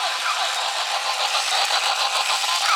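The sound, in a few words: vintage 1998 Robot 2001 toy gears running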